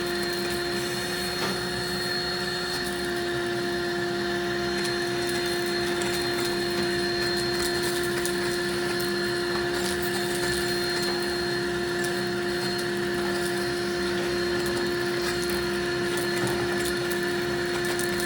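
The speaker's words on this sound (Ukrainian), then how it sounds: "вони зовсім не реагують на цей пилосос" A vacuum cleaner runs steadily and loudly throughout, with a constant droning hum and a high whine that never changes, and no voices.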